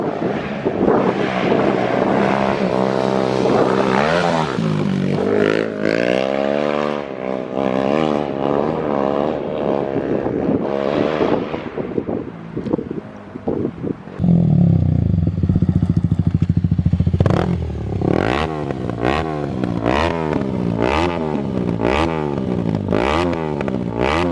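A 2021 Kawasaki KLX300 dirt bike fitted with a Power Commander revs hard nearby, its engine note rising and falling through gears, then a run of rapid throttle blips with wind buffeting the microphone.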